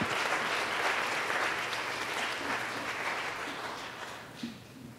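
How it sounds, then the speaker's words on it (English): Church congregation applauding, a full round of clapping from many hands that starts strong and gradually fades toward the end. "Let's give them a round of applause."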